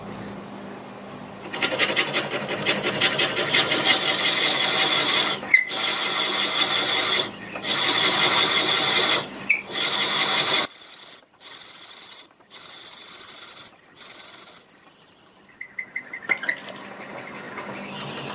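A wood lathe turning at about 350 RPM while a 7/8-inch bit drills into a mimosa wood vase blank, giving loud bursts of grinding, rasping cutting separated by short pauses, then quieter intermittent scraping.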